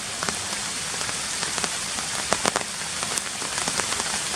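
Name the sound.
rain falling at a lakeside fishing spot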